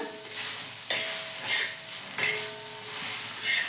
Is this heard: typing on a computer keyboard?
no